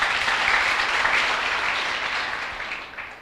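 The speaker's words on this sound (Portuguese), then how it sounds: "Uma salva de palmas para Jesus" Church congregation applauding after a call to clap for Jesus: a dense, sustained wash of many hands clapping, loud at first and gradually tapering off over a few seconds, with no voices standing out.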